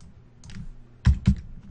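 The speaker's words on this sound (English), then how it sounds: "I'm just hitting a tab on my keyboard to accept that entry there" A computer keyboard sits in a quiet room with a faint background hum; light tapping comes first, then two firmer, close clicks of a single key, the tab key, pressed in quick succession.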